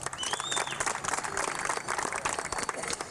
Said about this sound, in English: I'd also like you to give him a round of applause.